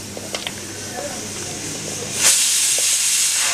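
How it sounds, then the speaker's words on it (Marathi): A pressure cooker in a kitchen lets out its whistle, a sudden loud hiss of escaping steam that bursts in partway through and keeps rushing steadily, following some quieter clinks and background noise. "कुकरची शिट्टी झाली, आता 1 शिट्टी झाली आहे"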